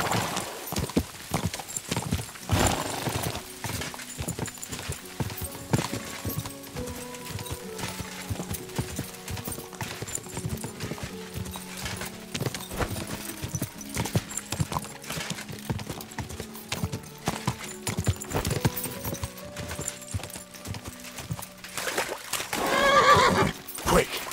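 Rapid clip-clop of galloping horse hooves in the video game Kingdom Come: Deliverance II runs steadily throughout, with occasional horse whinnies and a louder burst near the end.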